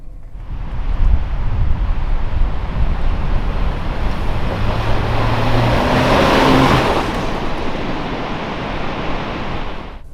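Jeep Gladiator pickup cruising steadily on an open road, with a continuous loud rush of wind and tyre noise over a low engine drone and a few faint tonal whines, steady throughout.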